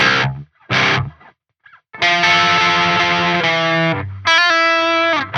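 Electric guitar played with heavy distortion through a Holy Island Audio Tides reverb pedal, a few short picked bursts followed by long sustained ringing chords with a reverb tail, loud and close with no talk.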